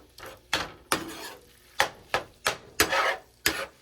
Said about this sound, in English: I'm gonna stir this all together